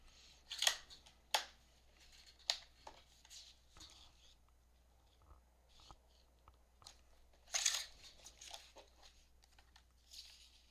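Scissors cutting a strip of paper, several crisp snips spread unevenly over the span, close and distinct against a quiet room.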